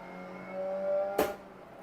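A Mazda MX5 engine held in third gear in Assetto Corsa at Thunderhill East, a steady droning tone rising slightly, then cut by a sharp broadband burst before settling back.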